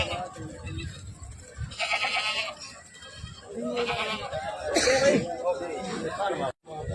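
A black goat bleats a few times amid a busy background of people talking nearby, at a goat sale.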